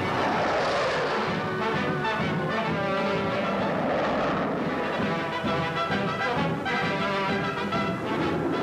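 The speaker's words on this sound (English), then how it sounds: "the turbojet engines explode and the sleek propellerless plane, setting the pattern for the world of tomorrow, takes off into the mist" Early propellerless turbojet plane taking off into mist, a loud, sustained roaring jet noise that fills the whole stretch, heard in an old newsreel-style recording without talk.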